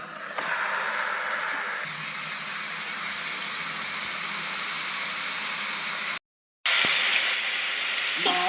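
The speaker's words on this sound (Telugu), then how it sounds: "నేనైతే చికెన్ వేసేస్తాను ఇప్పుడు." Chicken pieces tipped into golden fried onion paste for a chicken curry set off a loud, steady sizzle with a broad hiss, rising sharply at about two seconds, breaking off briefly near six seconds, then flaring again.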